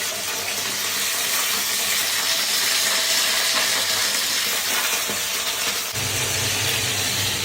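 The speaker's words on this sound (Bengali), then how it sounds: "এইবার সুন্দর করে এগুলোকে ভেজে নেব" Sliced okra sizzles in hot oil with nigella seeds in a wok, a loud, steady, close hiss of frying that runs throughout with small crackles and no talking.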